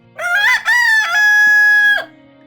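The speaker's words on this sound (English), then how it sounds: "he turned to face the shuttered window and crowed his loudest crow" A rooster crows loudly and close up in a long cock-a-doodle-doo with a rising start and a sustained high final note, alone with no other sound.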